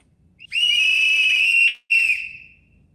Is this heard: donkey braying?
no